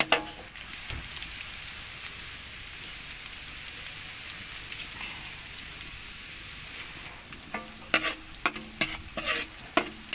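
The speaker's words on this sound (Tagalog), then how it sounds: "Samahan niyo po ako guys sa aking pagluluto para sa pansit bihon at saka spaghetti" Pancit bihon frying and being stirred in a pan, a steady sizzle throughout with sharper scraping stir strokes and clatter picking up near the end.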